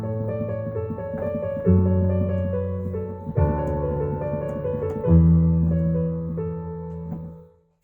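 Solo piano plays a short example melody with sustained chords, several phrases shifting harmony, moderately soft and close, then fading to silence at the end.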